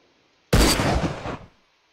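A single loud gunshot from the video game DayZ, a sharp close blast with a short rumbling tail that fades after about a second.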